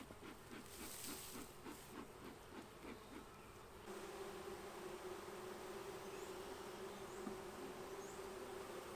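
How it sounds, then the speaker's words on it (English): Honey bees, many young, buzz steadily and close during a hive inspection, a dense humming drone with a fluttery pulsing at first, then a smoother continuous hum. "Bunch of young bees."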